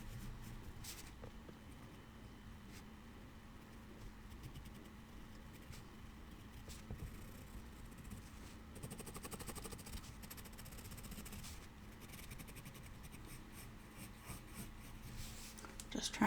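Pencil sketching a portrait on paper, with quick lines and shading strokes scratching steadily and softly at close range over a low background hum, no talking.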